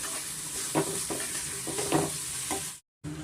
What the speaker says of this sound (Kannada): ನಾನು ತಟ್ಟೆ ಮುಚ್ಚಿಬಿಟ್ಟು ಸ್ವಲ್ಪ ತರಕಾರಿನ ಮೀಡಿಯಮ್ ಫ್ಲೇಮಲ್ಲಿ ಸ್ವಲ್ಪ ನಾನು ಫ್ರೈ ಮಾಡ್ಕೊತಾ ಇದ್ದೀನಿ